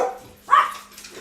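A single dog bark rings out partway through, loud and close, with quieter background noise on either side.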